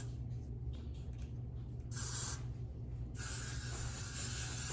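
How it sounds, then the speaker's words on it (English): Got2b Glued hair spray hisses from an aerosol can onto a person's hair in close, steady bursts, with a louder sustained spray in the second half. "You're gonna spray this all over her hair"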